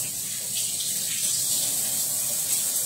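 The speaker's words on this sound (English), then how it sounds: "So now my corn, I do rinse off my corn." Tap water runs steadily as large ears of corn on the cob are rinsed in a kitchen sink, a continuous close hiss and splash with no talking.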